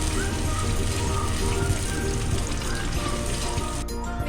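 Ingredients for Hyderabadi mirchi ka salan fry in hot oil with a steady, dense sizzle and crackle close by, continuous throughout.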